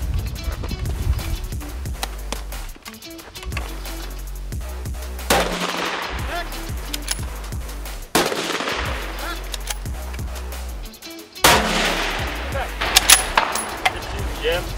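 Long-range rifle fire at a shooting competition, sharp loud reports spaced several seconds apart, each followed by a ringing outdoor tail, with background noise and a voice at times.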